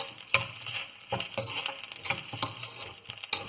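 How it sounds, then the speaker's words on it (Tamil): Coriander seeds, pepper and small shallots sauté in a pan over low flame, a soft crackling sizzle broken by repeated scraping stirs, close and steady without talk. "இது இவ்வளவும் போட்டு லைட்டாக வதக்கணும்"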